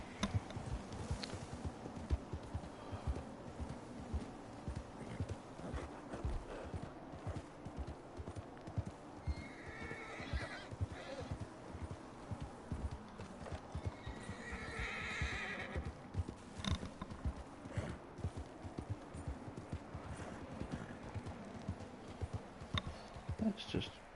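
Horse neighing and clip-clopping hooves in the video game Red Dead Online, a steady run of hoofbeats with whinnies rising over it, fairly faint, alongside background game ambience.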